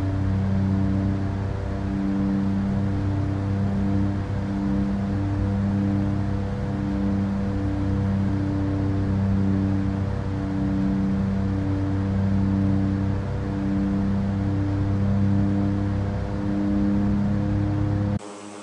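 Dash 8 turboprop aircraft taking off at KNUC, a steady, loud drone of engines with strong tonal hums holding throughout, ending abruptly.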